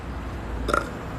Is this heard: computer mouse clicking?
no